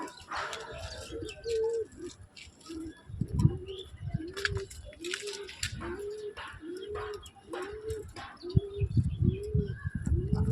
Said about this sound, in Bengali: full ready Payra